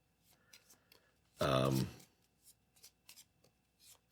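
A deck of path cards for the board game Earthborne Rangers gets a quick riffle shuffle, one loud burst of rapid card flutter, surrounded by quieter taps and card handling and a little nearby talk.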